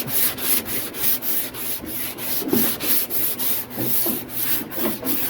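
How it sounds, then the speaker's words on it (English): Close, rhythmic sanding of lightweight body filler over a rust-hole repair: quick back-and-forth rasping strokes repeat steadily, about two per second, with no talking. "a little bit more sanding"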